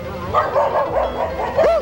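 A person imitates a dog barking, a few quick woof-like yelps close to the microphone, voiced rather than from a real dog.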